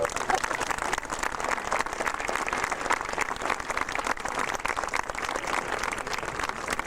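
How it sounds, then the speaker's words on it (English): Sustained applause for seniors and parents at a school parent night, from a sizable audience, dense and even clapping filling the room without a break. "let's give all the seniors and their parents a big round of applause"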